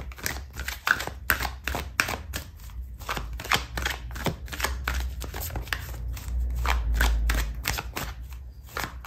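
Tarot cards being shuffled and drawn, a close run of quick papery flicks and soft taps in uneven bursts with a faint low hum underneath.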